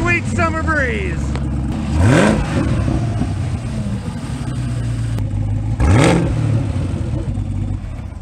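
A Chevrolet Camaro ZL1 with LT4 engine and six-speed manual fires up and revs, loud close engine roar with two sharp rising throttle blips over a steady idle.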